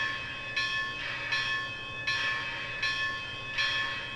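A model train's DCC sound decoder rings its bell in a steady, repeated metallic clang, each strike pulsing at an even rhythm over a constant background hum of the running locomotive.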